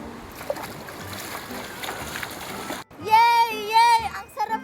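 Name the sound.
water splashing while bathing in a river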